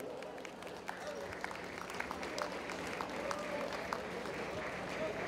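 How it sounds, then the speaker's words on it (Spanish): Crowd at a regional basketball tournament final applauding during a prize presentation: a steady, fairly quiet wash of distant clapping and crowd noise with voices mixed in throughout. "¡Fuerte los aplausos!"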